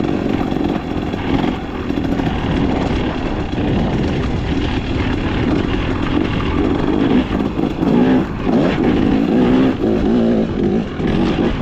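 A 2025 KTM XCW 300 two-stroke dirt bike snarls steadily up close while riding, its engine note surging and dipping through gear changes without a break, with no talking.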